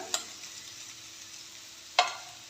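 Boiled, chopped potato cubes being stirred in a pan for Marathi-style potato bhaji, with two quick scraping stirs against a faint steady sizzle, near and without talk.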